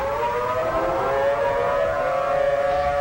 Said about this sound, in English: I'm going to sound the sirens.